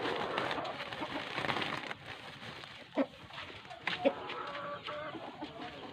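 A fighting rooster being trained clucks and coos a few times, fairly close but not loud, amid soft background rustling and handling noise.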